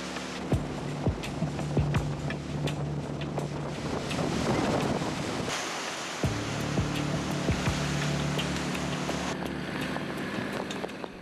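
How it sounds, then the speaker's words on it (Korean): Rough sea surf building off the southern coast near Haeundae beach as a typhoon approaches, heard as a steady broadband rush of waves with heavy wind buffeting the microphone and a boat engine droning underneath, with no voices. "해무에 더해 태풍까지 남해안 쪽으로 접근하면서 파도도 점점 거세진다."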